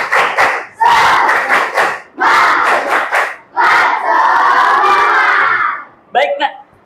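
A class of Indonesian fifth-grade schoolchildren performs the tepuk semangat clapping chant, shouting rhythmic bursts in unison with claps, loud and close, in several phrases separated by short pauses.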